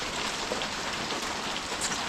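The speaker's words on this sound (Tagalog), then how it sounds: "Umuulan." Steady rain falls throughout, a dense, even patter on surfaces nearby at an outdoor catch-and-cook spot, with no voices heard.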